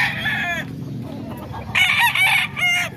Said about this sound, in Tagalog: Magandang manok mga kaidol oh.